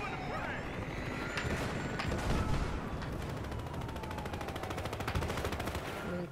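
A turret gun fires steadily in Battlefield Hardline, a rapid, even stream of shots under constant battle noise at moderate level, with a voice talking over it.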